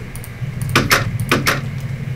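A wooden door placed in a Minecraft-style block game gives two quick pairs of hollow clunks, close and clear over a low background hum.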